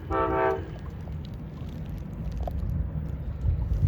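Train arriving near a shoreline at Hercules, California, a brief horn toot at the start followed by a low rumbling approach that grows gradually louder, with no talk.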